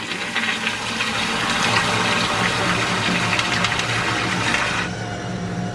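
An older hotel-room toilet in Reno flushes forcefully with a loud, rushing gush of water that runs for several seconds and then cuts off abruptly near the end.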